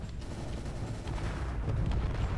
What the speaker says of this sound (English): the warhead detonated, but the missile itself still had sufficient kinetic energy to take off the ship's main guns